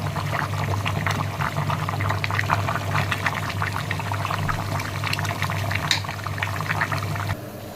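Radish and meat curry gravy simmering in a pot, giving a steady, close bubbling and crackling texture with a low hum underneath that runs the whole time and eases off just before the end.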